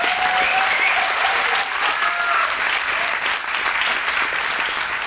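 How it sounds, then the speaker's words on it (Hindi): Loud, sustained applause from a large crowd in an auditorium in Kalyan, dense clapping throughout without a break. "आज मेरे लिए तालियां बजाओगे"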